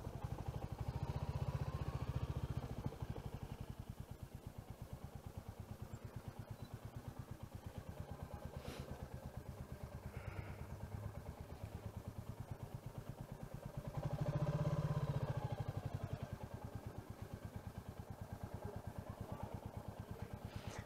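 A 2023 Royal Enfield Classic 350 Dark Stealth motorcycle idles in neutral with a steady, rapid putter, briefly swelling louder twice as the throttle rises, then settling back to its low chug.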